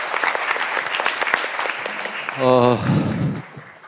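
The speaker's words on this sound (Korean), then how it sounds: "큰 박수 부탁드립니다." Audience applause at a Seoul digital bio-city conference on the biotech industry, scattered claps running under a speaking voice, then a brief tonal sound and a low murmur as the clapping fades.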